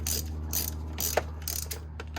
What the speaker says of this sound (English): I'm going to use an 18mm socket.